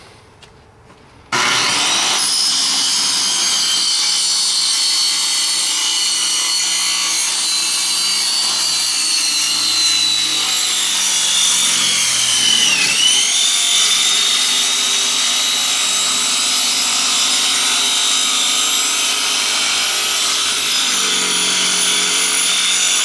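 A saw rips steadily through wood near a rotten floor, a loud continuous rasping buzz that starts abruptly after a brief quiet moment and runs unbroken, close by, with a slight dip in pitch midway.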